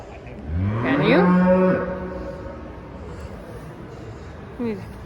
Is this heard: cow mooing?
yes